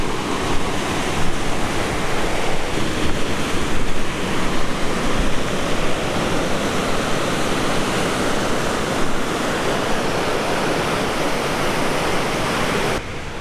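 The Spray River in the Canadian Rockies rushes past close by, a loud, continuous broadband roar of flowing water, steady throughout with no voices.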